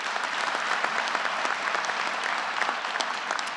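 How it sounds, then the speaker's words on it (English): Sustained audience applause at a university graduate commencement ceremony in Baltimore, a dense, steady wash of many hands clapping with no pauses, heard from within a large hall. "Give him a round of applause, please."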